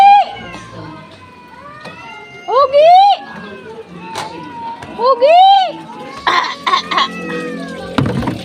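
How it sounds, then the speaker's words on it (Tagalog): Cats yowl and meow in drawn-out, rising wails as they fight at home, with a person shouting over them. "Nag-aaway ang aking mga pusa."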